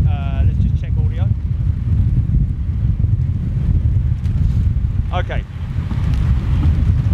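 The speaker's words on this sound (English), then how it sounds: "Right, so kind of blustery conditions here." Gusty wind buffeting the microphone outdoors at London Heathrow airport in blustery conditions, a loud continuous low rumble throughout, with brief bits of a voice over it.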